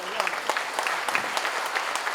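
An audience at a dairy technology college function in Dumka, Jharkhand breaks into lively applause, crisp distinct claps rattling close and dense over a couple of seconds, with a voice faintly underneath.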